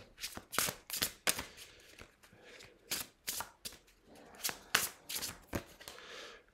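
Oracle cards are shuffled by hand in a series of quick, crisp riffling bursts, close and fairly faint, with short pauses between them.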